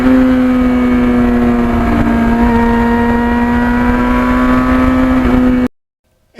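A 1991 Yamaha FZR 1000 motorcycle on the road holds a steady, droning engine note at constant speed for several seconds before cutting off abruptly.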